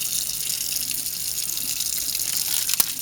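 Cold city tap water runs steadily into a kitchen sink while sausage is prepped for pizza flatbreads, a constant close hiss and splash ending with a brief knock.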